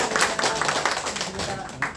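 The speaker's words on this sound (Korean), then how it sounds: "자, 박수 한번 해요" A class of adult learners clapping together at the close of an intermediate course session, several seconds of lively, close applause with a voice talking underneath.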